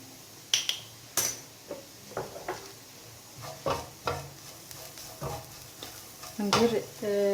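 A cheese and black olive filling sizzles in a pan, with repeated scraping stirs and light clicks of a utensil coming in uneven bursts over a soft, continuous frying hiss, close and moderately quiet.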